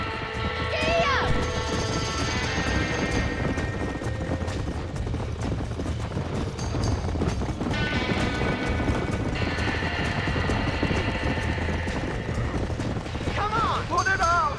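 Horses clip-clop and whinny inside a burning barn in the Red Dead Redemption video game, with hooves, crashes and shouting voices over a dense, loud, continuous game soundtrack.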